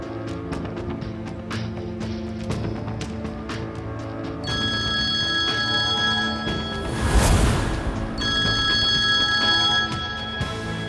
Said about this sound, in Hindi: जहरा यार, तुम अपना फोन क्यों नहीं उठा रही थी?